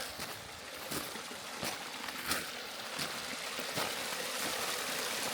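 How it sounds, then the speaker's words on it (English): A small forest waterfall in Busiek State Forest gives a soft, steady flow of water, faint and continuous, with a few light splashing pulses. "Was not expecting a little waterfall today, so this is a nice surprise."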